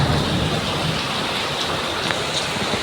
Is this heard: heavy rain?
yes